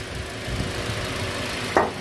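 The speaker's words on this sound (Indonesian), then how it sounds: "Mesin nggak ada kendala sama sekali, suaranya masih halus" A 2019 Daihatsu Terios X Deluxe with manual transmission idles with its hood open, a steady, smooth close engine hum, broken near the end by a single brief knock or tap.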